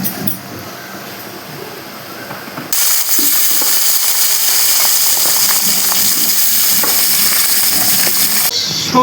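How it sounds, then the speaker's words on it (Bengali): Mustard oil hits a hot pan for frying pabda fish, a sudden loud sizzle that bursts in and holds steady, with quieter clatter and stirring before it. "মাছটা ভেজে নেওয়ার জন্য সর্ষের তেল দিচ্ছি।"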